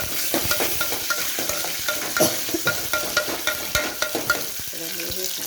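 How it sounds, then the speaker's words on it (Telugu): Dried red chillies, along with urad dal, chana dal and seeds, sizzling and frying in hot oil while being stirred, a dense crackling hiss with sharp utensil clinks and scrapes against the pan, close and fairly loud, no speech. "ఎండుమిర్చి వేసేసిన ఫ్రెండ్స్"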